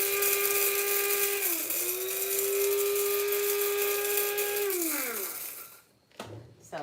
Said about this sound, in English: we're just taking the fresh fennel and grinding it in a little grinder